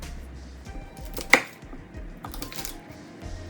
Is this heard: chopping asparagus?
yes